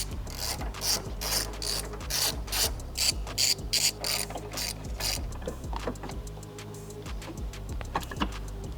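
Rapid bursts of ratchet clicking ring out close and clear, pausing between runs as 15mm nuts are backed off the strut brace on a BMW with an S58 engine.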